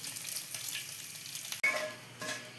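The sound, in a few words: whole garam masala and bay leaves sizzling in hot oil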